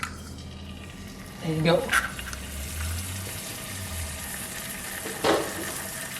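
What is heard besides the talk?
egg frying in a cast iron pan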